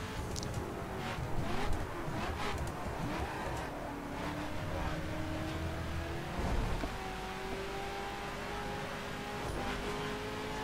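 A BMW M5 engine revs and climbs through gears in a one-mile drag race in The Crew video game, a steady rising engine drone with gear shifts, played back quietly.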